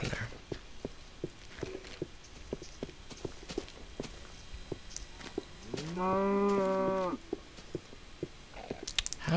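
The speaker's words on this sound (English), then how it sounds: "How does the cow get down here?" A cow moos once, long and clear, in a Minecraft cave, while regular blocky footsteps tap steadily before and after it.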